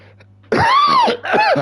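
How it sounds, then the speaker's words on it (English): A single person coughs right at the microphone, two harsh throaty bursts in quick succession, loud and close, with no other sound around them. "I managed to go that whole stream without coughing."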